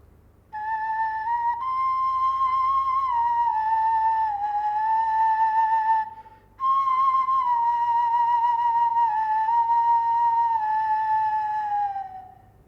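Breathy, haunting Maori nose flute tones hold long notes with slight pitch bends, two sustained phrases separated by a brief pause, played solo.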